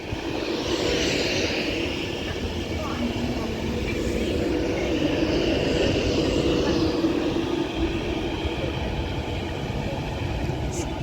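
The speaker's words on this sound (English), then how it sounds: "With a Class 390 Pendolino. This will be the express one." A Class 390 Pendolino express train pulls into Wigan North Western on the West Coast Main Line, giving a steady broad rumble and whine that holds for about eleven seconds at fairly close range.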